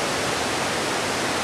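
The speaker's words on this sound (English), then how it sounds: "Did we finally find the magical fairy waterfall?" A dense, steady roar of falling water from a waterfall along a hiking trail fills the air, close and loud, with no voices over it.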